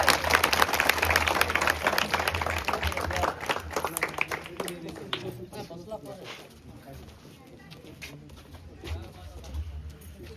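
Applause greets a guest at a school headmaster's retirement farewell gathering, dense clapping strongest at the start and thinning over the following seconds, with chatter and a hum underneath.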